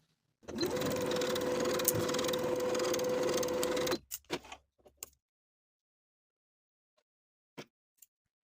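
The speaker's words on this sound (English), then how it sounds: "Now I'll sew each of my 4 darts from the outside edge to the point" A sewing machine stitching bodice darts runs in one continuous whirring burst of about three and a half seconds with a steady motor whine, then stops, followed by a few faint clicks and handling taps.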